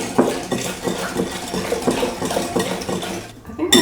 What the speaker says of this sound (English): You just whisk 2 cups of milk with this powder